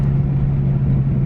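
Car engine drones steadily under acceleration, a loud, close, even hum heard from inside the vehicle with no talking.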